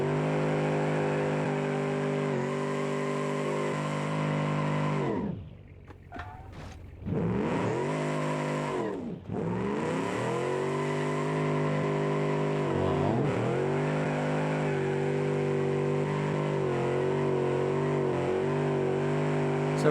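A gasoline W-250 truck in the Automation/BeamNG driving game revs its engine through the exhaust, a sustained droning note rising and falling in pitch, with two brief drops to near silence midway.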